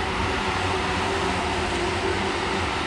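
A Japanese commuter train runs past in Japan, a steady loud rumble and rushing roar of wheels and carriages that holds evenly throughout, close by, with no voices.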